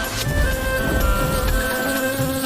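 A grasshopper's continuous buzz drones steadily over a noisy background with faint tonal hum, no speech.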